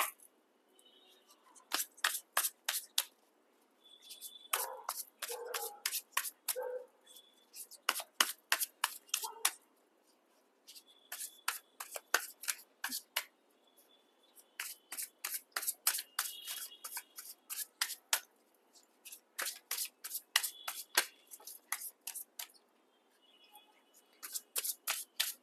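A deck of tarot cards being shuffled by hand in repeated bursts of crisp riffling and flicking, close and fairly quiet, with short pauses between runs and no talking.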